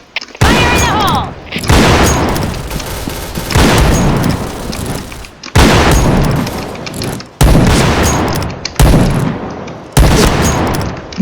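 Video game combat erupts with a grenade explosion and bursts of gunfire, several loud booming blasts and rapid shots separated by brief pauses, dense and close.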